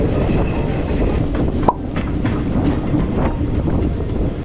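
A train on the Kollam–Sengottai railway route in Kerala rolls along with a loud, close, continuous rumble, scattered clacks from the wheels and some wind buffeting, with no voices.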